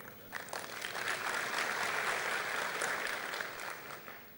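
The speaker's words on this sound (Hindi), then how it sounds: "जितनी तालियां बजी उससे तो लगता है कि इतने तो हैं बाहर के।" Audience applause in a hall during a speech at a JITO Connect event in Gujarat, a broad wash of clapping that swells in within half a second, holds steady for about three seconds, then tapers off, moderately distant.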